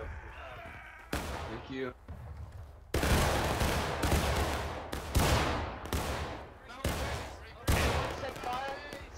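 Volleys of musket gunfire in the Civil War game War of Rights, loud sharp blasts spaced every second or so with rolling echoes, while voices talk over the battle.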